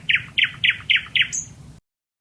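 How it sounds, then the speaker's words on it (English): A male nightingale singing: a quick series of five bright, repeated chirping notes followed by a higher whistle, close and clear before abrupt silence. "You will be surprised to know that only male nightingales sing."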